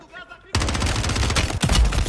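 Dual pistols fire in Call of Duty: Modern Warfare 3. After a brief quiet moment, a loud, dense burst of rapid shots begins and continues without pause to the end.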